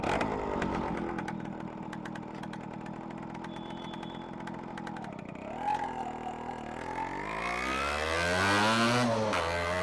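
A Yamaha RX135 two-stroke motorcycle engine starting up crackles and pops at a rough idle, then revs up with a rising, buzzing whine toward the end.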